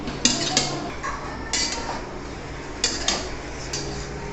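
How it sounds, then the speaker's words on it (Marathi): A spoon scrapes and clinks against a pan while coconut dry roasts, giving light metallic taps and stirring scrapes at irregular intervals in a quiet kitchen. "आता आपण खोबरं भाजून घेऊ."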